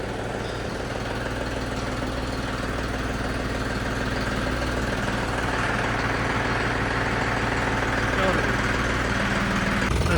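A Mahindra 4x4 tractor engine idles in a steady low rumble throughout, close by and unchanging, with faint voices in the background.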